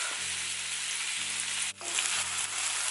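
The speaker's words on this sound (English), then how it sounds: "Just leave it and allow it to just stir fry up." Strips of steak stir fry in a hot pan with a loud, dense, continuous sizzle and a faint hum underneath, up close and steady throughout.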